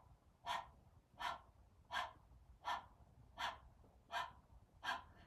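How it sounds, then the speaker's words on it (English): Breath of fire in a Kundalini kriya, done with the tongue out and panting like a dog: seven sharp, evenly spaced breaths, close and clear, with a quiet hiss between them and no talking. "start by sticking the tongue out and just panting like a dog"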